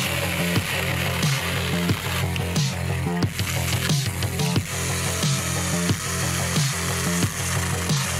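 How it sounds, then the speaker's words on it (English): A mini cordless chainsaw cuts through wood with a steady, loud buzzing whine, broken by rhythmic dips as the chain bites, continuous for the whole stretch with no talk. "Introducing the mini cordless chainsaw."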